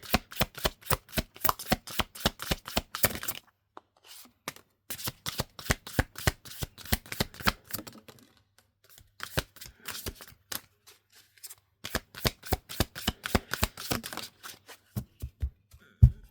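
Tarot cards are shuffled in rapid riffling bursts that repeat steadily, broken by a few brief pauses, close and fairly loud with no talking.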